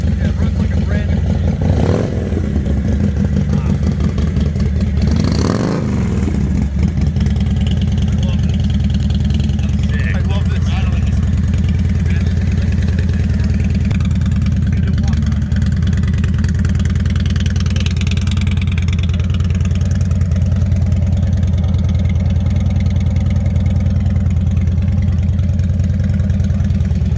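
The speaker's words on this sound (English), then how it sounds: "It's a brand new motorcycle. Yeah, it runs like a brand new." A classic Yamaha YZ motocross bike engine runs steadily close by, a loud continuous drone with a couple of brief revs early on, and people talk over it.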